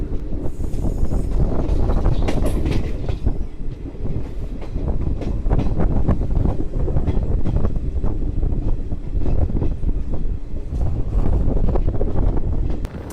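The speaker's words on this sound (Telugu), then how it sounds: "ఆ సౌండ్ చూడండి భలే ఉంటుంది కదా ట్రాక్ చేంజ్ అయ్యేటప్పుడు ట్రైన్." A passenger train running from Markapuram to Guntakal through the Nallamala forest clatters slowly over points while changing tracks, its wheels beating a loud, dense, irregular rhythm with wind rushing across the microphone.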